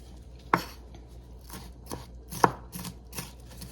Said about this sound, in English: We'll cut all these peppers up and put in here.